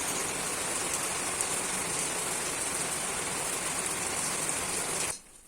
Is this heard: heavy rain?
yes